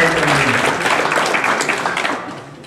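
Crowd applause for a graduate at a ceremony held inside Potracancha prison, a dense steady clapping that stays loud before easing off toward the end.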